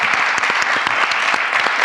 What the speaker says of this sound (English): Give Kimmy some nice round of applause.